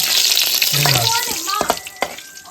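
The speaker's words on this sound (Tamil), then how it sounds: "எண்ணெய் ஊற்றி கருவேப்பிலை போட்டோம்." Curry leaves fry in hot oil for a chicken curry, giving a loud, continuous crackling sizzle with sharp pops and stirring clatter close by.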